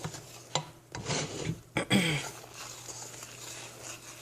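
A spoon scrapes and stirs a gritty homemade laundry sauce mixture, giving a close, faint, uneven rasping in short strokes.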